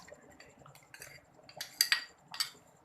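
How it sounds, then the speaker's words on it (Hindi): A spoon works oil into thick mutton nihari gravy, giving soft scrapes followed by several sharp metallic clinks against the pot that grow louder toward the end, close up and with no talking. "मिक्स करेंगे अच्छी तरह से।"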